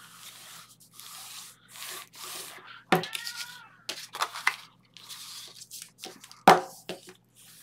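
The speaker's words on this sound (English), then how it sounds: "fold and burnish" Paper is folded and burnished flat, with soft intermittent rubbing strokes and two sharp crisp crackles, one partway through and one near the end. A quiet voice can be heard at times.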